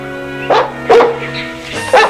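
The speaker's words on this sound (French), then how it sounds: "Ah, c'est mon chien." A dog barks in three sharp, loud yelps spaced about half a second apart, heard over a steady musical or ambient background.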